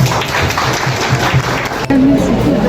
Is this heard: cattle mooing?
no